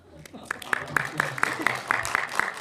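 A few sharp, evenly spaced claps ring out from a small audience at a film festival talk, fairly faint and close, over low background murmur.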